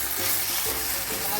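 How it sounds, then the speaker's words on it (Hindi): Chicken frying with onions in a pan for a fenugreek leaf chicken dish, a steady close sizzle with soft stirring scrapes, continuous and fairly loud. "डाल दिए हैं और अच्छी तरह चिकन को हम भून लेते हैं।"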